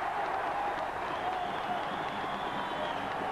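A 6,000-strong football crowd at a Dunfermline v Bordeaux friendly applauds and cheers steadily after an equaliser, a dense, continuous roar of clapping and voices filling the stadium throughout.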